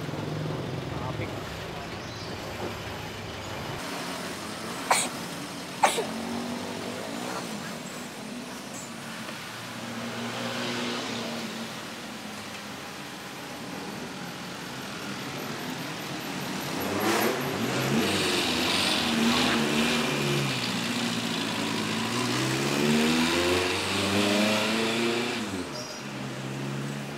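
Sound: road traffic, cars passing and revving

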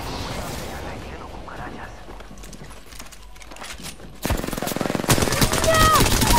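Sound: gunfire in a video game

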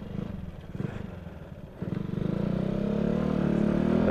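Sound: motorcycle riding in the cold

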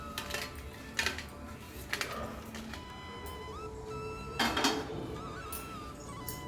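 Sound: roasted dried red chillies being transferred onto a plate

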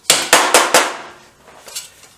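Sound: hammer knocking metal motorcycle part

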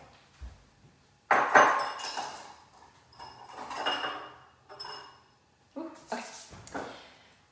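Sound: clear glass bowls being moved aside

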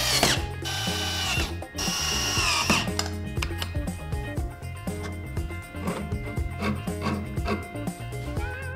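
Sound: tiny 3.5 cc nitro engine running

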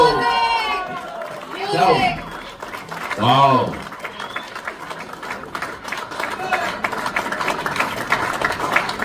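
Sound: crowd applauding at a cricket tournament

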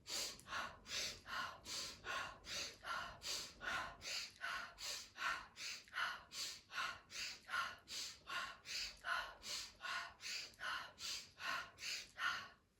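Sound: deep breathing during a neck exercise

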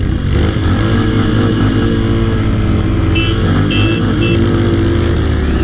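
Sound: Royal Enfield Hunter 350 and Honda CB350 motorcycles accelerating

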